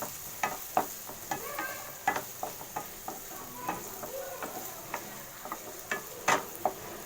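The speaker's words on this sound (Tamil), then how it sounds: "இதில் ஒரு வெங்காயம் பொடிசாக நறுக்கின வெங்காயம் போட்டுக்கிறேன். இதை வதக்கிக்கலாம் நல்லா." Finely chopped onion sautéing in a pan, a soft sizzle beneath repeated scrapes and clatters of a spoon stirring against the pan at an irregular pace, close and moderately loud, with no talking.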